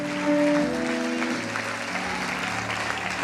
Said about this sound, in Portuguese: Ah não, gente, aplaude direito, glorifica direito.